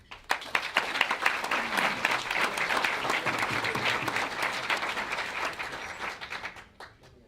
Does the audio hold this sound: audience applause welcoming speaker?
yes